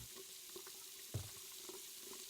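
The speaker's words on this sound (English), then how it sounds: "I hear some water." Running water in a cabin in the Friday the 13th video game, a soft, steady tap-like stream with a faint click partway through, quiet and alone.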